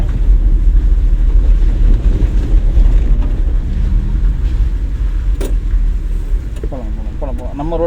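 A car engine drones steadily during a driving lesson, a loud continuous hum with road and wind noise, and a few faint clicks near the end.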